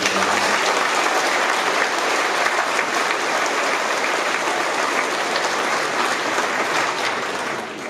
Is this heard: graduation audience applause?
yes